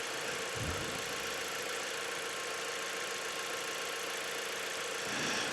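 A car engine idles at about 854 RPM while warming up, giving a steady low hum and faint vibration throughout, with a soft thump near the start and a slight rise at the end.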